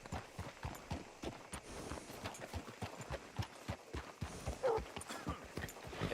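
Horse hooves clip-clop in a steady walking rhythm in a video game (Red Dead Redemption 2), close and moderately loud, with faint ambient noise behind and no talking.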